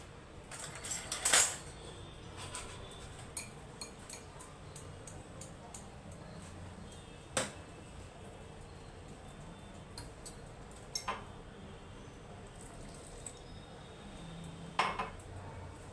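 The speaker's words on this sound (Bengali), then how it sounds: "অল্প অল্প জল দিয়ে আমি মেশাতে থাকছি এখন" Thick gram-flour batter for chilli pakoda is mixed with water, with a spoon knocking against the bowl in sparse, sharp clinks over a quiet, steady background.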